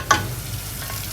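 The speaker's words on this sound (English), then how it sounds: "Give it a little stir, just to separate each pasta." A spoon stirs 400 grams of pasta in a pot, opening with one sharp clink against the side, then fading into a low, steady bubbling.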